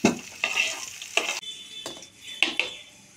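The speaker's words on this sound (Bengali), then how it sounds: "আলুগুলোকে লাল লাল করে আমরা ভেজে তুলে নেব।" Potatoes frying in oil while a spatula scrapes and lifts them out of the pan: several distinct, close scraping strokes over a soft sizzle, spaced roughly half a second to a second apart.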